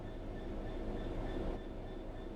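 A train in the Train Sim World 3 video game rumbles steadily on the rails while braking to a stop, a continuous low mechanical roar with faint tonal hums and no voices.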